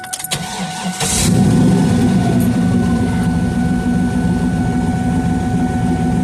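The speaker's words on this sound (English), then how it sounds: "Still got to clean up the idle, but it responds." An LS-swapped Mustang V8 cranks and catches, then settles into a loud, steady, rumbling idle close by with no talk.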